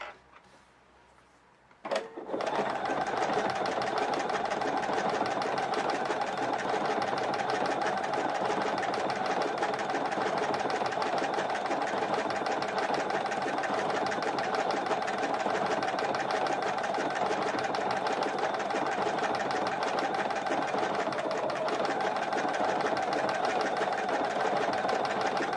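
A sewing machine stitches fabric sideways. After a click it starts up and runs steadily as a loud, continuous, rapid mechanical whir and rattle for over twenty seconds, close and alone.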